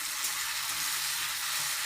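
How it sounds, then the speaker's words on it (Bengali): Spices with ginger paste, garlic paste, tomato and chopped green chilli frying in a pan for a prawn fry, a steady close sizzle with light stirring and no talk. "দিয়ে আমি এবারে নাড়বো"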